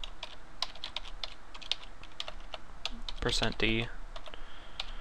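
Computer keyboard keys clatter in a rapid, uneven run while C code is typed, and a voice speaks briefly over the clicking partway through.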